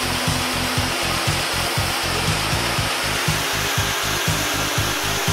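A K2 CNC joinery machine mills a hidden post base plate into timber, a loud continuous mechanical whine with a rapid pulsing chop in the low end, steady throughout with no voices.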